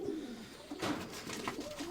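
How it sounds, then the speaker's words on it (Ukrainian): Young pigeon chicks coo softly at close range, a few low, breathy coos repeating over about two seconds, faint and alone without any voices. "На зараз п'ятьох голубенят."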